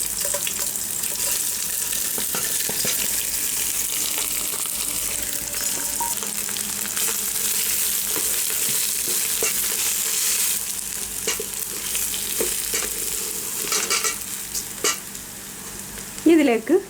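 Fried rice for chicken mandi stirred and scraped in a pan with green chillies, a steady sizzle under clinks and scrapes that grow busier toward the end, with a splash of water near the finish.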